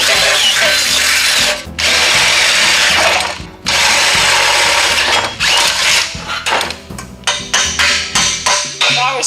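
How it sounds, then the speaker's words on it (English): A power drill drills out spot welds at a body shop, whining loudly and steadily, stalling briefly twice, then breaking into short rapid bursts toward the end as it bites through metal. "we're gonna have to get these 2 spot welds here. Let me go ahead and drill those out."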